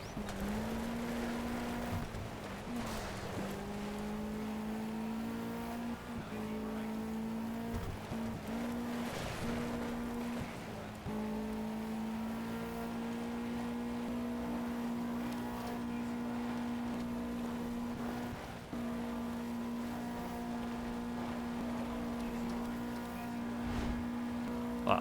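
Steady droning car engine in the racing video game Sega Rally Revo, held at near-constant pitch for the full length, with faint scattered clicks and game effects over it.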